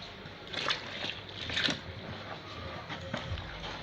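A liquid soap mixture is stirred with water in a container, making soft, intermittent sloshing and swishing sounds that come and go at a low, close-up level.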